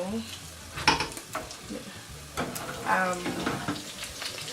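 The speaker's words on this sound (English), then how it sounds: "cooking some bacon, which I'm gonna crumble up later" Bacon frying in a pan, with an irregular crackle and sizzle broken by clattering pan and utensil knocks and a few scraping stirs, fairly close.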